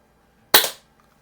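A single sharp, loud crack from an Umarex Browning Buckmark air pistol fitted with a red dot sight, a brief report with a quick decaying tail, heard alone.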